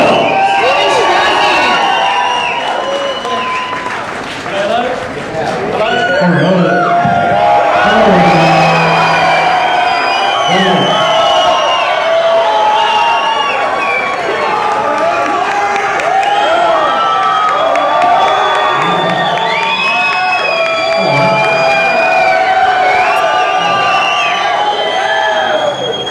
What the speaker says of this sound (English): Please give a round of applause for everybody coming out on stage